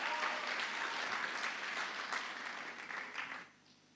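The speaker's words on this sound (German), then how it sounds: "Dan mag je een applaus voor Elena Suderman geven." A congregation at a special church service applauds Elena Suderman. Fairly quiet, even clapping fills the room and then fades out near the end.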